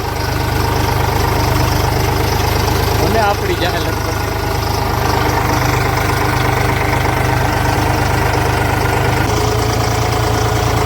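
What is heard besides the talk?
tractor engine idling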